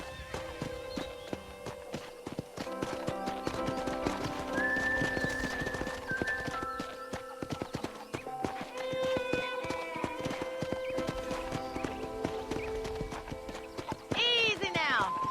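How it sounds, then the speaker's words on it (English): A horse in the Red Dead Redemption video game clip-clops along at a steady gallop, with a loud whinny near the end, while people talk over the rhythmic hoofbeats and game music. "let's see if you can still ride a horse."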